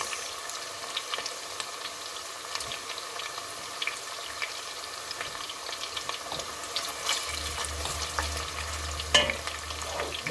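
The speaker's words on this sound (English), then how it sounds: "I'm gonna start frying my meat." Meat frying with ginger, garlic and onions in a saucepan gives a steady, soft sizzle and crackle, with occasional scrapes of stirring and a louder clatter near the end, close and without talking.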